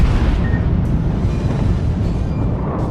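Torpedo hits from the French cruiser Emile Bertin land during a naval battle game, heard as a loud, continuous roaring rumble of explosions and churning water with no pauses.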